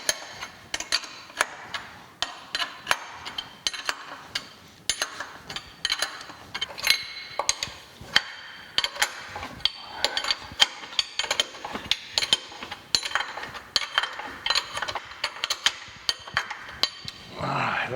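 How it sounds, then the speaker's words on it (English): Wrench ratcheting on the leveling feet of an old metal planer in a workshop, a long run of sharp metallic clicks and ticks in uneven rhythm, close and moderately loud, with no talk. "it's just 10 movements of my wrench here"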